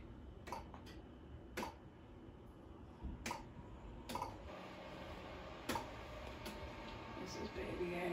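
Sparse, sharp clicks of someone typing on a computer keyboard in an ultrasound exam room, a handful of irregular keystrokes over a quiet, faintly murmuring room.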